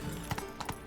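Horse hooves from The Witcher 3 clop in a short burst, a few distinct hoofbeats close by with a faint background bed.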